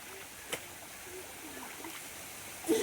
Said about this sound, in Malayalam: ഇതാണ് ഞങ്ങളുടെ വെള്ളച്ചാട്ടം. വർഷകാലത്ത് മാത്രമേ ഉള്ളൂ